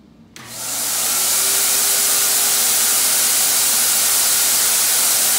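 A Harbor Freight turbine paint sprayer loaded with automotive paint starts up and blows a loud, steady airy hiss that swells within a second and then holds constant, with no talk.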